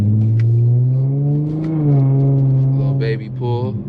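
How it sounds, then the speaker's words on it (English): An Infiniti G35 coupe with a loud exhaust pulls hard under acceleration, its steady droning engine note rising in pitch close by and loud, with a brief shift dip near the end. "just doing some pulls and showing y'all the exhaust and stuff like that"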